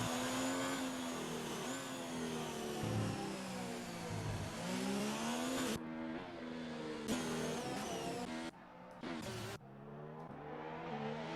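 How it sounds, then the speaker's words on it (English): Race car engine in an online racing game at Monaco, with a strange glitchy sound: a loud, steady droning whine with wavering pitch, cut by abrupt dropouts and jumps near the end. "There's a weird sound going on with Deja Vu's engine."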